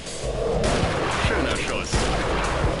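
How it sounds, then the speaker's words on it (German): Gunfire in the hunting video game Treibjagd 3D: a dense, loud volley of sharp shots crackles over a steady broadband roar, with repeated punchy hits through the whole stretch. "Schöner Schuss."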